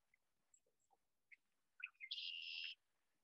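A male marsh bird sings from cattails to advertise its territory, with a few faint chips and then one buzzy, trilling phrase lasting under a second, distant and quiet in an otherwise hushed outdoor setting.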